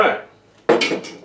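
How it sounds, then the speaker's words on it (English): Glass jars of pineapple moonshine being capped, a soft clink followed after a pause by a louder cluster of sharp glass-and-metal knocks as lids are set and handled up close. "We topped off each jar, put a lid on it"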